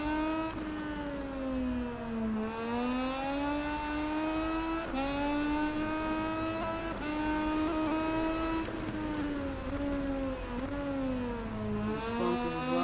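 A motorcycle engine held at full throttle during an Italian GP race in the video game MotoGP 19 gives a loud, continuous high-pitched whine that rises and dips with gear changes and corners.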